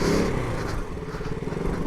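A Yamaha R3 motorcycle fitted with a Yoshimura full exhaust system rumbles at low speed as it slows and rolls in through a gate, a steady close engine burble with a louder moment at the start.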